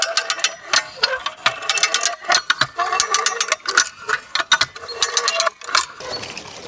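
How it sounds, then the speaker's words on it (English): A hand ratchet cranked in fast bursts of sharp clicking, loud and close, as a rope tightens around the rotten root ball of a tree on an island in spring, with no talk over it. "I should have the ratchet on the other end"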